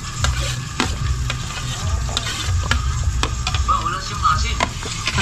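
Loud, steady sizzling of fish frying in oil in a pan, crackling continuously up close with occasional sharp pops and the scrape of stirring.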